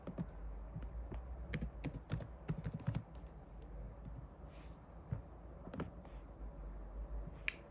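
Soft clicks of typing on a computer keyboard that was just swapped for a new one, irregular bursts of keystrokes in a quiet room with low background hum, no talking.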